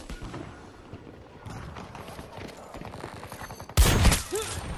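Gunfire in Battlefield 2042 pops in scattered bursts beneath busy game noise, with one loud, sharp blast near the end standing out close and heavy.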